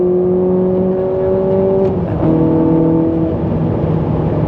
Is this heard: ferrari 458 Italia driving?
yes